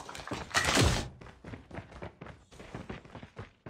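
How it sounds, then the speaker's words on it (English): Magazine reload in Call of Duty Mobile battle royale, a loud clunking thunk at the start followed by lighter clicks and taps, close and brief. "Changing mag."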